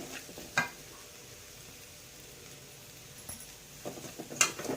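Tomato with chili powder, sambar powder, salt and turmeric fries quietly in a pan for brinjal curry, a soft steady sizzle broken by a few faint scrapes and stirring knocks, with no talk.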